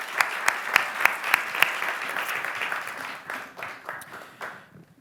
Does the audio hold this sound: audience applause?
yes